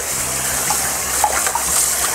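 Cold tap water runs steadily over cabbage leaves being rinsed, a close, continuous splashing stream with no talk.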